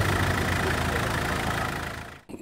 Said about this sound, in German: Der Motor läuft wieder.